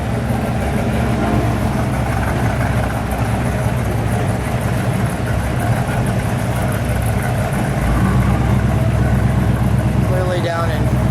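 A 1979 Pontiac Trans Am, once owned by Burt Reynolds, idles with a steady, loud, rumbling engine note that holds evenly from start to finish.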